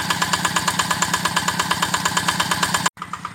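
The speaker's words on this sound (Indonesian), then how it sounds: "pompa Ebara 3 in dengan mesin diesel Yanmar TF85 MLYS" A Yanmar TF85 diesel engine running an Ebara 3 inch water pump chugs in a steady, fast, even rhythm up close, then breaks off for an instant and continues more quietly.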